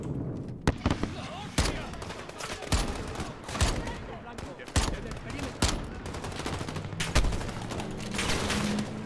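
Gunfire in the video game Call of Duty Modern Warfare: rapid bursts and single loud shots crack repeatedly over a dense, busy battle bed, with a voice talking over parts of it.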